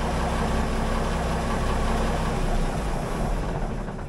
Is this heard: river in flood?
no